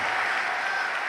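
Church congregation applauding during a Brazilian intercession service, a dense continuous wash of clapping that stays steady and loud through the whole short stretch.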